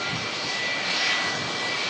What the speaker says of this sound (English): RB211s should make a lovely din as they roll past us here at the Runway Visitor Park at Manchester Airport